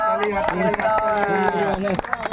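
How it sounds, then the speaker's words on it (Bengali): A family claps their hands for a baby at a first-writing ceremony, a steady rhythm of crisp claps about four per second mixed with a prominent, tuneful speaking or chanting voice. "হাততালি দাও সবাই, হাততালি দাও।"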